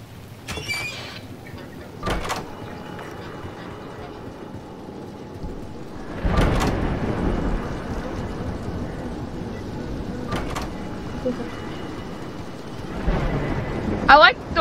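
A thunder and lightning storm in the video game DOORS brings a few sharp cracks and rumbling thunder over a steady wash of rain, while a person talks throughout.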